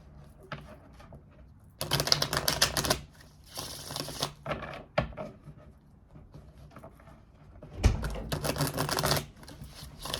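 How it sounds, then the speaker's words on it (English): A tarot card deck being shuffled by hand, giving bursts of crisp riffling and fluttering card noise separated by brief pauses and softer handling sounds, fairly close. "Let's give this a quick shuffle."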